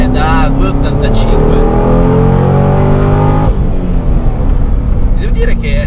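A used Corvette C6 sports car accelerates, its engine rising in pitch through a strong revving pull before dropping off as the throttle lifts, loud and close, with someone talking over it.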